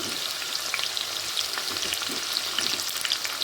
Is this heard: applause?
no